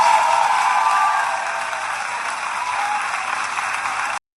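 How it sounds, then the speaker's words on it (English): A WWE arena crowd applauds and cheers for Becky Lynch at a Women's Intercontinental Championship match, a dense, sustained roar of clapping that eases slightly after the first second, then cuts off abruptly. "I think Becky needs her applause."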